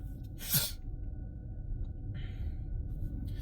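A single sharp sneeze, close by and fairly quiet, rises over a steady low background hum, with stillness after.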